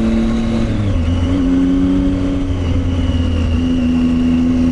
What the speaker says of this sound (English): You can get the back wheel to spin in a little bit.